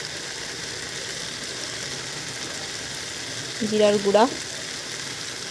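Chicken sautéed with spices in a pan for chicken kasha, a steady close sizzle and frying hiss throughout, with a brief scrape of stirring partway and someone speaking over it.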